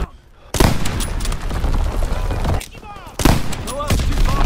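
An artillery battery fires in a video game, loud booming blasts and sustained rumbling gunfire with whistling shells, plus brief radio-style voice chatter between volleys.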